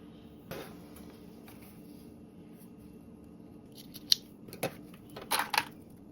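Sewing clips snap onto fabric edges as a series of sharp, close plastic clicks, a single one early and a quick cluster near the end, over a quiet background.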